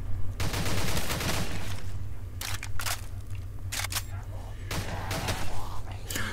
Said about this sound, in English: Full auto shotgun. I like it.